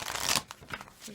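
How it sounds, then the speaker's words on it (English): Oracle cards shuffled by hand during a card reading make a quick riffling flutter up close, followed by a few soft card taps and slides, with no speech. "I'm going to pull you an oracle card, group 2."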